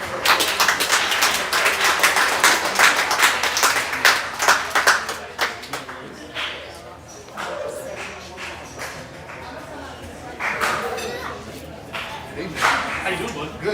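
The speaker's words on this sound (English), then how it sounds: "Everybody give a big round of applause for Buckeye High School's football coach, Coach Aaron York." An audience claps for a high school football coach at a coach's show. Dense, lively applause tapers into scattered claps, with people talking over it.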